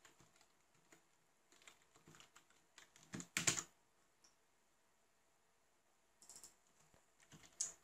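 Keystrokes on a computer keyboard while Android code is typed, coming in short scattered bursts of clicks with a louder cluster near the middle and quiet pauses between.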